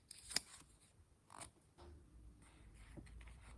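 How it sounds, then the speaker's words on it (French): Scissors cutting out a paper kangaroo figure for a pop-up book, a few faint, sparse snips and paper rustles close by in a quiet room. "Ici, c'est le kangourou qui va être découpé."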